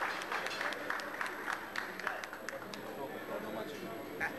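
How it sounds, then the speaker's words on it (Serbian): An audience at a traffic police New Year gathering applauds General Sima with a brisk patter of claps, while voices talk over it. "Aplauz još jednom za gospodina generala Sima."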